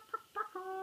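Children mimic a chicken's clucking with their voices, three short clucking calls one after another, the last drawn out, heard fairly close and alone.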